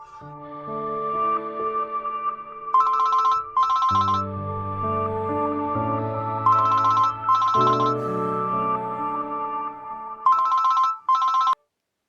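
A melodic phone ringtone plays clearly and loudly, looping its tune with bright chiming bursts before cutting off near the end.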